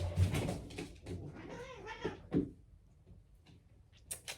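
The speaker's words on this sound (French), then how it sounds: "c'est mes deux chats qui se battent" Two house cats fight indoors, a burst of yowling and hissing with thumps and scuffles, a rising wail, then quieter shuffling and a few sharp knocks close by.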